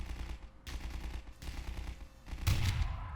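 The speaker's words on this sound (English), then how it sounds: "it basically shoots a grenade like out of a submachine gun or assault rifle" A grenade-launching gun in Garry's Mod, fired from a submachine gun or assault rifle, giving several muffled thumping shots and bursts at moderate loudness, the last one louder and closer than the rest.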